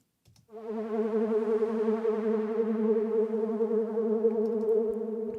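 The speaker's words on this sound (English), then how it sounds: "This is what it sounds like with modulation." A sustained synthesized Star Wars-style spaceship tone with a buzzy, wavering wah modulation, steady and fairly loud, starting abruptly after a brief click.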